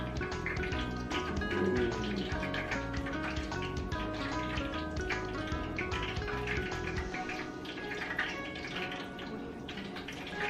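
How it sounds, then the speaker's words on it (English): Hot canola oil heating in a pan for funnel cake, giving a steady, dense crackle of small pops and sizzles that runs the whole time at moderate level, with no talk over it. "As you can hear, the canola oil is ready back there. It's popping."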